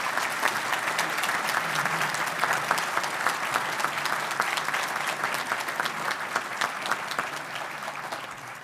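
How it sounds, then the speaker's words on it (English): A luncheon crowd at a YMCA event gives a loud, dense round of applause, continuous clapping with sharp individual claps standing out and no speech over it. "if you could please give all of them a round of applause"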